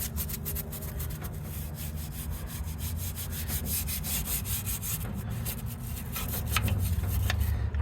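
A brush scrubs lightly at a greasy surface coated in Harbor Freight degreaser, giving a steady, close rasping rub with quick repeated strokes and no pauses.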